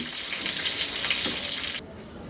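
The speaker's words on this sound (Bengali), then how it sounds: "হাই আর মিডিয়ামের মাঝামাঝি আমি ভাজলাম প্রতি পাশ প্রায় তিন মিনিট" Steady, loud sizzling of rohu fish frying in hot oil over medium-high heat, a dense crackling hiss that cuts off abruptly near the end.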